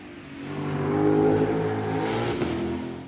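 Ford Mustang GTD with a 5.2-liter supercharged V8, a close engine revving up to a loud peak with a rising whine, then settling back, heard alone.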